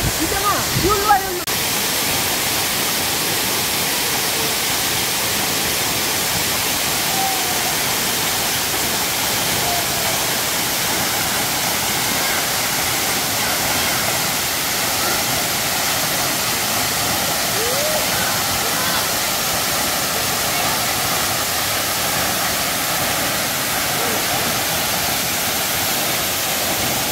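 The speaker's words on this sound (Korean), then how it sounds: "폭포는 저 위에서 떨어지는데" Suok Falls in Goesan, North Chungcheong, drops about 20 m onto rock inside a huge cliff-ringed basin, giving a loud, steady, close roar that fills the whole stretch without pause.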